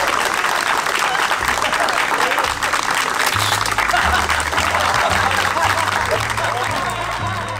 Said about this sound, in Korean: 박수 한 번 쳐주시겠어요?